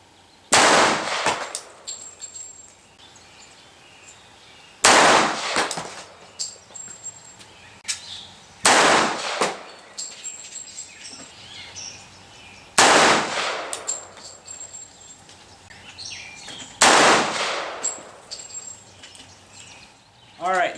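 Five loud, sharp gunshots fire from 180-grain flat-point cast lead bullets loaded with 5 grains of HP-38 powder. They come evenly spaced about four seconds apart, each with a brief ringing decay, and there is no talk between them.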